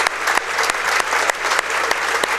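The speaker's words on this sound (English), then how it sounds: "Well-deserved round of applause for Clay Giozzi." Crowd at a 2016 Greenville Greenwave versus Sidney Yellow Jackets high school basketball game gives a round of applause, dense steady clapping with a few sharper claps standing out, filling the gym.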